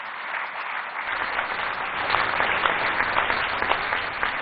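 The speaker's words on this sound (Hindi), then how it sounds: "जोर से तालियां हो जाएं।" An audience at the Safaigiri Awards ceremony for award winners breaks into sustained applause that grows fuller and louder after the first second and stays dense and steady throughout.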